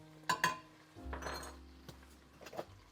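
A spoon clinks twice against a pan, then stirs and scrapes softly as cherry jello is mixed into melted butter, close and quiet with light taps toward the end.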